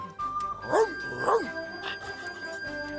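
A cartoon dog in a 1997 animated film of A Christmas Carol gives two short yipping barks close together. A sustained musical tone plays underneath.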